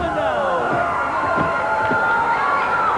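A wrestling crowd at a 1990 AWA All Star Wrestling tag match cheers and roars in a steady mass, with thuds from the ring and a commentator talking over the noise.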